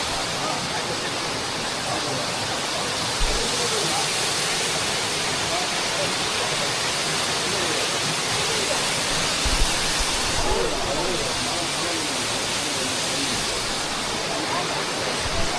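Ermayi waterfall roaring as a dense, steady wash of falling water, loud and close, with no pause or change over the whole stretch.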